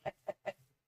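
Three short, evenly spaced clucks from a chicken in Minecraft, clear and isolated with quiet gaps between, followed by a faint low trailing note.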